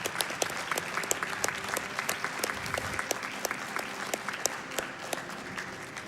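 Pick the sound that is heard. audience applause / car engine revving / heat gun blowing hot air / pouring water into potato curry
audience applause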